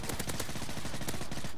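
Rapid automatic fire from an MP7 submachine gun in the video game Modern Warfare 3, a dense, loud stream of shots in quick succession with a few sharper bursts standing out.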